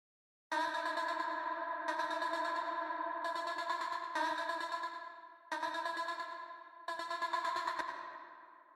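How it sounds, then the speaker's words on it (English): Sustained, layered music chords processed through a free reverb plugin's presets, cutting in and out in short sections with lush, washy tails and a steady, fairly loud level, switching settings every second or two. "Okay, let's try some other reverb presets."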